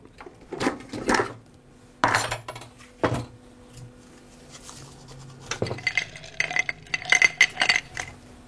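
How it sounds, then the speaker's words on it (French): Hard little objects clatter and clink against a plastic bowl in irregular bursts, some sharp knocks early, then a rapid cluster of clinks near the end. "Les glaçons sont faits et du coup on va pouvoir les mettre directement dans le robot."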